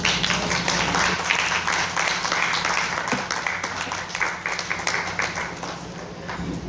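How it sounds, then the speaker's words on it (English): Sustained audience applause after a spoken word poetry reading at the Bim Lit Fest 2016 literary festival: dense, steady clapping from a crowd that carries on evenly and eases off slightly toward the end. "Let's give her a round of applause"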